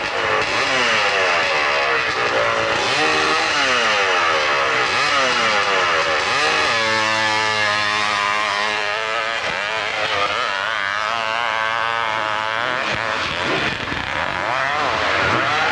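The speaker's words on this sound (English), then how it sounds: "Rotax engine, Can-Am power, Canadian motorcycle, Sean Farnsworth" A Can-Am motorcycle with a Rotax engine climbs a hill at a 1996 Monson, Massachusetts hillclimb. Its engine roars loud and steady, its pitch rising and falling through revs, with crowd and announcer sounds underneath.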